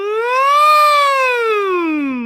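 A single person hums a siren-style vocal warm-up, one smooth, close, loud glide that swoops up in pitch and then slowly falls, imitating a siren.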